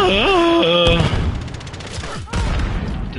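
Enemy gunfire in Call of Duty, a rapid crackle of shots and booms, follows a sweeping synth tone and continues under a brief dip before resuming loudly.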